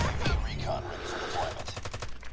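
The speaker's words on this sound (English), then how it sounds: "I am tap firing though." Rapid gunfire from the Holger 26 LMG in Call of Duty Mobile crackles in close bursts, with a fast string of shots toward the end and other game sounds layered underneath.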